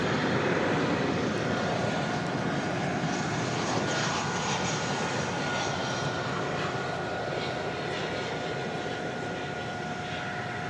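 American Airlines Airbus A319 jet at DFW Airport at night, a steady, loud, broadband engine roar that holds evenly throughout with a faint high whine on top.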